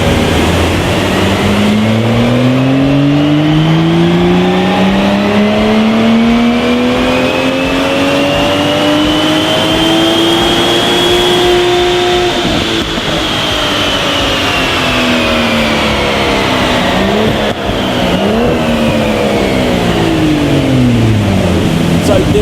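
A remapped Aston Martin DB11 V12 tuned to 729 horsepower, revving hard through a long, rising then falling sweep as it drives past, loud and close, followed by further gear changes and engine roar.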